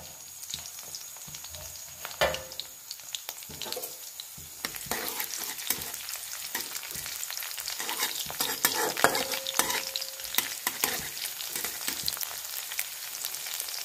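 Green chillies frying with browned garlic in a pan, a loud, continuous crackling sizzle that builds and thickens over time, punctuated by irregular spatters and stirring scrapes, with no speech.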